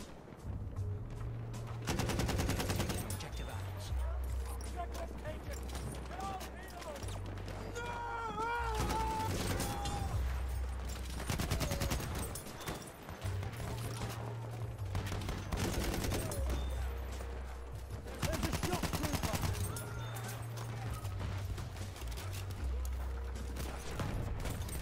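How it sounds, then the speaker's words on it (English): Machine gun fire in Battlefield 1, with repeated bursts of rapid automatic shots scattered through a busy battle soundscape, loud and close, mixed with voices. "Machine gun!"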